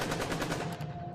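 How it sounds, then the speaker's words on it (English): Rapid gunfire from a sound effect in an audio story rattles off as a fast burst of closely spaced shots, loud and continuous before trailing off, with no voices. "Gunshots interrupted their thoughts, and panic set in."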